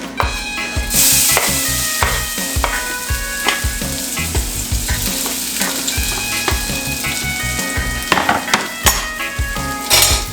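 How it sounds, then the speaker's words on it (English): Potato pieces dropped into about two tablespoons of hot organic olive oil in a pot over medium-high heat, crackling and sizzling steadily throughout, with occasional stirring scrapes and utensil clinks against the pot. "We put about 2 tablespoons of organic olive oil inside of that, and now we're gonna add our potato"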